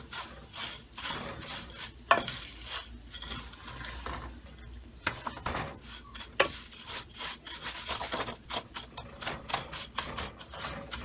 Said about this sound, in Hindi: मीडियम टू लो पे भूनेंगे।